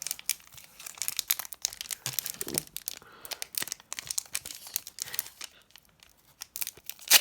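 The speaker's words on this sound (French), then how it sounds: "4 paquets, c'est exactement les mêmes paquets. On va les ouvrir." Trading card booster packs from a promo box being torn open, with rapid close-up ripping and crinkling of foil wrappers in repeated bursts, loud and continuous with no talking.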